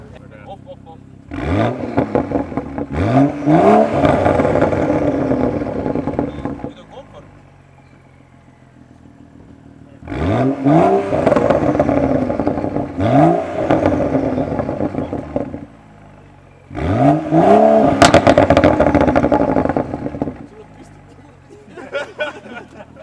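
A car engine revving hard in three separate loud bursts, each one climbing in pitch and then falling back, with quieter idle gaps in between and people talking nearby.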